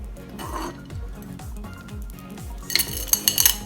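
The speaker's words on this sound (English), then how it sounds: "A bunch of candy falls out." Pieces of candy spill and clatter out of a freshly sliced piñata cake onto a plate, a quick cluster of bright clinks and taps near the end, following a steady rhythmic background beat.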